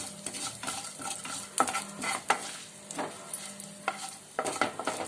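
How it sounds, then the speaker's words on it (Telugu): Urad dal, mustard seeds and curry leaves crackle and sizzle in hot oil for a Telugu spinach chutney tempering, close and steady with sharp pops and occasional stirring clinks. "పోపు చిట్పట్లాడుతుంది."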